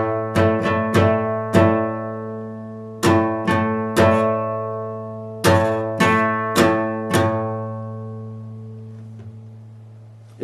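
Guitar chord strummed slowly in a down-up pattern, with about a dozen separate strokes in uneven groups, each ringing out before the next, played alone and up close.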